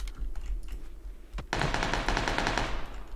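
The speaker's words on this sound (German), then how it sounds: "Vier Schüsse vor mir." Rapid gunfire in the battle-royale shooter PUBG, a short burst of close, crackling automatic shots that sounds alone, with no talk over it.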